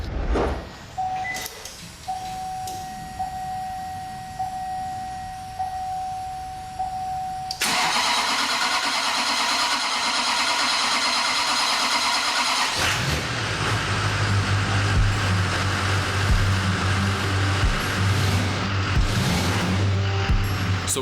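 A Duramax diesel truck engine cranks for several seconds with a steady whirring starter, then catches around midway and settles into a loud, rough diesel idle that continues to the end.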